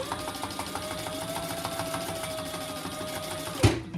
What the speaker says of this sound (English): And you're going to stitch.